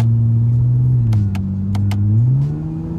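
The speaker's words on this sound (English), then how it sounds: "As you're accelerating, before you get to 20 miles per hour, downshift it into first gear." A Honda Accord Coupe engine pulls steadily and loudly, its tone rising then dipping and climbing again as the car accelerates and drops into first gear, with a few short clicks or taps on top.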